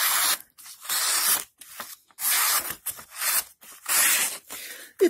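Enlan EW107 folding flipper knife slicing through paper in a cut test, a series of about six crisp rasping cuts in quick bursts separated by short silences, close and loud.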